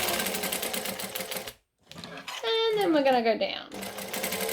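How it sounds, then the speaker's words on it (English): A sewing machine stitches a handbag seam in short whirring bursts, with a brief pause and a backstitch; someone talks over the stitching. "I'm going to stitch, and I'm going to back stitch"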